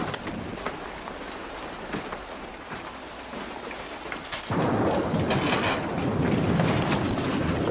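Steady rain hisses in the background, then abruptly grows heavier and louder halfway through, pouring densely until the end.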